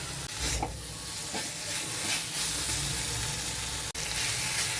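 Pointed gourd curry with spices and whisked yogurt being stirred and fried in a pan, giving a steady close sizzle with scraping stir strokes throughout and a brief dip near the end.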